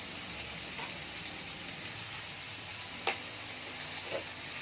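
Soft, steady sizzling of curry leaves and cumin frying in a pan, quiet and even, with a couple of faint ticks and clicks.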